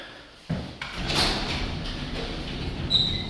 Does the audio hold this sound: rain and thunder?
no